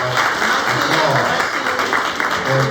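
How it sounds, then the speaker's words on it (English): Audience applause at a health equity and policy event, loud and continuous clapping close by, with some voices mixed into the crowd noise. "a big round of applause."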